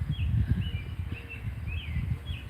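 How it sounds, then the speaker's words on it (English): Small birds chirp and whistle in thin, faint calls over a loud low rumble of wind and handling noise during a morning walk around a yard. "Wonderful to hear the birds singing."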